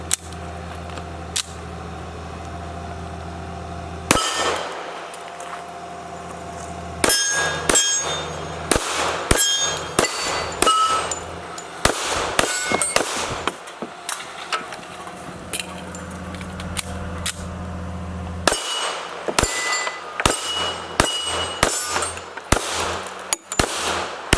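Sig P220 .45 ACP pistol fired at steel targets outdoors, with loud sharp shots in irregular strings, some shots in quick succession and pauses between volleys, each followed by a ringing metallic clang from the steel.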